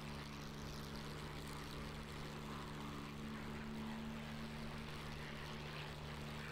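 Steady, droning hum of a propeller aircraft engine in a flight simulator game, a constant tonal buzz over broadband rushing noise that holds at an even level throughout with no pauses.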